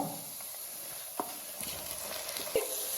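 Chopped tomatoes dropped into frying onions for Kerala-style tomato rice give a steady, soft hiss of sizzling oil, with a few faint clinks and stirring taps over it.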